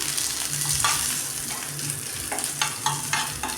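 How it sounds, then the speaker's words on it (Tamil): Dried red chillies and curry leaves fry in a little oil in a pan, giving a steady close sizzle with scattered crackles and a few utensil scrapes, no voices. "அதே பேனில் வந்து கொஞ்சமாக ஆயில் விட்டு கறிப்பில் போட்டு வரமிளகா போட்டு வறுத்து வறுத்துக்கிறேன்"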